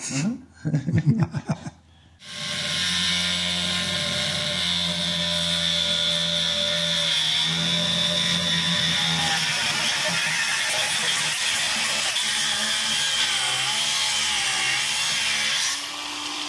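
A saw grinds steadily through a Lambretta X 300 SR scooter exhaust part for many seconds after a few short clanks, a loud continuous harsh rasp with no speech over it.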